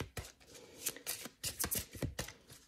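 Tarot cards are shuffled and drawn by hand in a quick run of soft riffling and slapping taps, close and fairly quiet.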